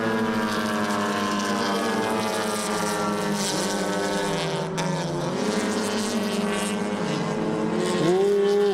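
Touring race cars on the Mandalika circuit in an ITCR 1500 race, engines roaring steadily and loud throughout, with a rising engine note near the end as a car passes close.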